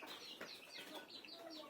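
Chickens on a small poultry farm clucking and chattering faintly in a steady, overlapping murmur, a few higher calls rising above the flock.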